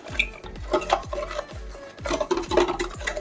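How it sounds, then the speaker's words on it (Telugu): Thick curd is churned into buttermilk in a vessel. Quick rhythmic strokes scrape and slosh about twice a second, close and clear, with no talking. "ఇలాగా చిలికేసుకుందాం"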